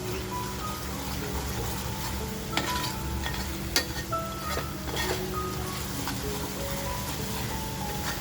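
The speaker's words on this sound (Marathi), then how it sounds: "आणि व्यवस्थित असा मसाला फ्राय करून घेऊया." Halwa fish masala fries in oil with kokum juice added, a steady moderate sizzle running throughout with occasional scrapes and light clinks of a spatula against the pan.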